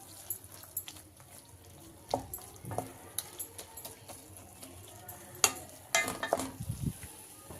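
Tomato and tamarind cook in a hot pan for a mint-tomato chutney, with a soft background sizzle. Irregular scraping stirs and clinks of a utensil against the pan come through, a few sharper knocks standing out near the end.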